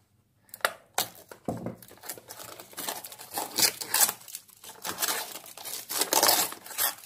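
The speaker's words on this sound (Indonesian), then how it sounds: "ini gunting dulu" Plastic packaging holding Makassar-style red fried rice is cut open with scissors and handled, giving close crinkling and tearing with irregular snips and rustles that build louder toward the end, with no talking.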